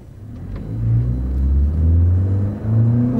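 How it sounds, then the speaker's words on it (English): Small pickup truck pulling away from a stop in first gear, a close, loud low engine rumble swelling as it accelerates, easing briefly and climbing again. "We'll put it in first gear and we'll take off."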